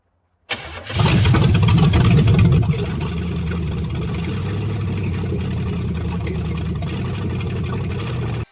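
A 1981 Chevy Camaro V8 with a Holley 4-barrel carburetor fires up on its first start after a rebuild, with crossed plug wires. A quick crank catches into a loud, rough, muffled rumble that surges briefly and then settles into a steady idle.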